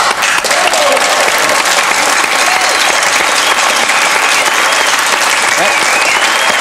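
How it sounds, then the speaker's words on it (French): A studio audience on a French television show bursts into loud, continuous applause, a thick, even wash of clapping that holds steady throughout. "Eh bien, on l'applaudit."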